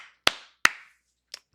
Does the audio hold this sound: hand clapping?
yes